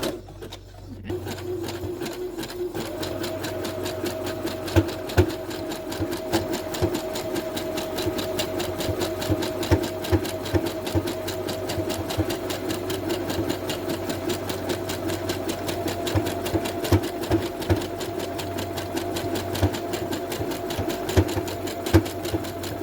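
A sewing machine runs steadily, its needle zigzag stitching a crochet tutu top in a fast, even mechanical rhythm with a hum underneath for a long stretch.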